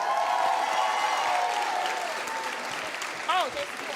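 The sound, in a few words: audience applause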